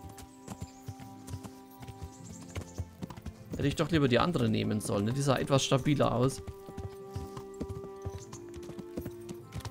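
A horse's hooves clop across a small wooden bridge in the medieval game Kingdom Come: Deliverance, a steady walking rhythm under someone talking through the middle of the clip.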